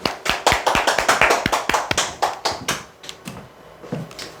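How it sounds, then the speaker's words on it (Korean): Hands clap loudly and quickly in a small indoor seminar audience. The claps are rapid and fairly even, then thin out and slow toward the end, with no voices over them. "박수"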